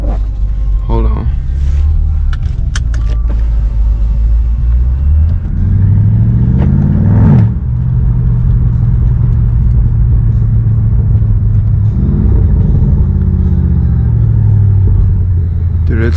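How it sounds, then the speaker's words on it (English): A BMW M550 turbocharged engine revs several times from the driver's seat, deep rising and falling rumbles with swelling pitch sweeps, close and loud, with voices talking over it. "we gotta make some turbo noise"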